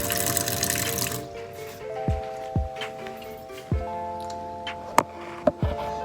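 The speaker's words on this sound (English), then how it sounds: "Use another dry paper towel to turn off the faucet." A faucet at a handwashing sink runs with a close, steady rush of water for about a second before being shut off, followed by quiet sustained tones and several sharp clicks and knocks.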